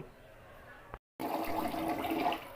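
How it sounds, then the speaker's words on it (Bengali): Rice is washed by hand in water with a soft slosh and splash, quiet and close. A brief cut to silence falls partway through, and the washing is fuller and busier afterward. "চাল ধোয়া চলতেছে"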